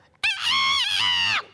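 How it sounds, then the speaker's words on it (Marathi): A single loud rooster crow, roughly a second long, rises and holds steady before trailing off, heard alone and close on a Marathi comedy stage show. "तो कोंबडा आरवायचाच."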